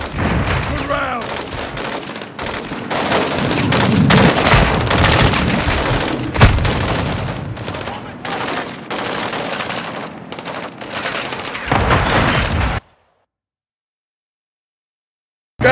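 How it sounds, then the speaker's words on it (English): Battle sound effects of launcher rounds and heavy gunfire, a dense barrage of loud bangs and booming explosions for about thirteen seconds before cutting to silence, with shouted voices among the blasts. "Gaz, hit with the launcher!"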